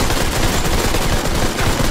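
Video game gunfire from Modern Combat 5, a continuous dense automatic barrage that is loud and close and fills the whole stretch without a break.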